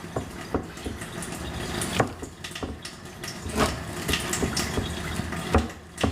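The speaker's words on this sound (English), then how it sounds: "I'm going to add a little bit of water to it" Water is poured into pierogi dough, producing a soft splashing trickle with scattered knocks and clicks from the bowl, fairly faint and with no one talking.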